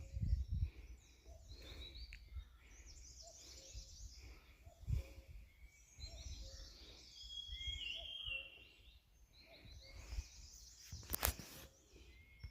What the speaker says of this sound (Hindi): पंछियों के कलरव भी खूब सुनाई दे रहे हैं